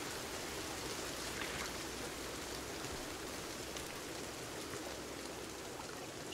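Rain falling in the survival video game Sons of the Forest, a soft, steady hiss of rain that stays even and fairly quiet throughout, with no voices.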